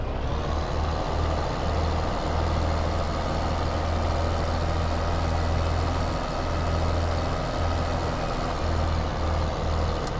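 A grain truck in Farming Simulator 15 rumbles steadily at close range with a low engine drone, a hiss like an air brake and faint reversing beeps, heard alone with no talk.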